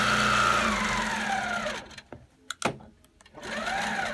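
A Handiquilter longarm quilting machine runs with a steady mechanical whir that winds down and falls nearly silent, broken by a few clicks, then spins back up at the end.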